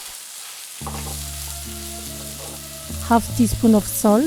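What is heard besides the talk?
ground pork with onion and garlic frying in oiled pan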